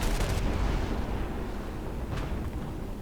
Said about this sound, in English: this vehicle is susceptible to some artillery strikes